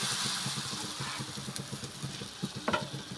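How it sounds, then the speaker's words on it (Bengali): Oil-slicked batter sizzles on a hot griddle pan over low-medium heat for a vegetarian roll, a soft steady crackle with a rhythmic scraping pattern and a couple of sharper clicks near the end. "এখানে দেখো আমি কিন্তু এক হাতা ব্যাটার দিয়ে দিচ্ছি"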